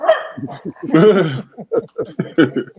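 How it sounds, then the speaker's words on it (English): A dog barks in the background during a podcast conversation. A short burst of barking rises under steady, close talk. "Dre, the dog want to get his voice in"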